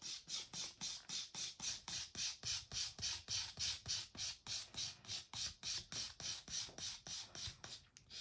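Steady, rhythmic back-and-forth rasping of a nail file beveling down the edge of an acrylic nail extension, about three strokes per second, close and fairly quiet with no talking.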